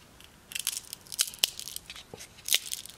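An old, hardened carburetor diaphragm from an antique saw crunching and crackling as it is handled, a run of sharp close crisp snaps and crinkles with no talk.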